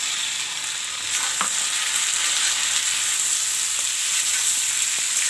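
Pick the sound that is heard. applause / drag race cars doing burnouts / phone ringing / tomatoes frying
tomatoes frying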